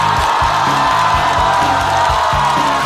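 A studio audience at a Chinese variety show claps and cheers loudly to welcome Fan Zhiyi, a dense sustained roar of applause and whoops with a steady pulsing beat underneath.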